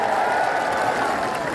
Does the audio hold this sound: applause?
yes